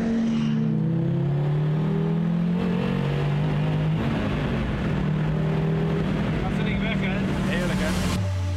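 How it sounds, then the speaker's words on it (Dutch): A Donkervoort sports car's five-cylinder engine drones and revs with rising and falling pitch, loud and continuous under voices talking. "De motor zorgt niet alleen voor ongelofelijke prestaties, maar ook voor een waanzinnig en vooral eigenzinnig geluid."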